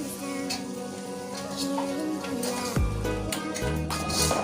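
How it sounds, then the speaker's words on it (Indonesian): Continuous sizzling of spices in a frying pan with stirring and scraping, close and steady, with a low hum underneath. "Ayo lanjut, kita aduk lagi."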